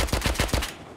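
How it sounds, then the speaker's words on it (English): Sniper gunfire in the survival game Rust: five rapid, loud shots in an even rhythm over about two-thirds of a second, then quiet. "They're sniping up."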